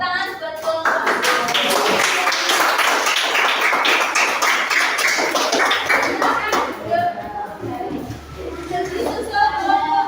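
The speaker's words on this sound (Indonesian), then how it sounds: "Beri tepuk tangan buat kelompok." A classroom group applauds with a dense burst of clapping that lasts several seconds and then thins out, after which children and an adult talk.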